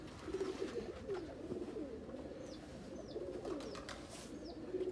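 Sialkoti breeder pigeons of an old bloodline coo steadily in low, rolling calls, several birds overlapping, with faint chirps above.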